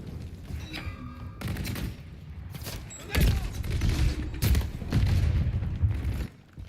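Gunfire rattles through a Call of Duty MW3 match, with dense volleys of shots and booming thuds in heavy, loud bursts that swell toward the end, and no clear talk.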